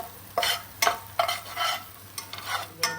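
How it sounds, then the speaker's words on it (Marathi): Ginger-garlic masala being stirred in a pan for Konkani-style chicken, with repeated scraping strokes over a soft sizzle, about seven distinct close swipes at an uneven rhythm, no voices. "त्याला प्रॉपर मिक्स करून घेऊ"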